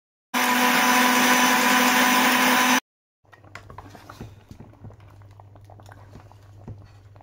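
An electric blender whirs loudly and steadily for about two and a half seconds, mixing ground seasoning with salt for an okra sauce, then stops, leaving faint kitchen clatter and a low hum.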